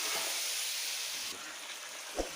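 Meat being stirred as it fries in a pot makes a soft, steady hiss of sizzling, with a faint scrape near the end and a single brief knock.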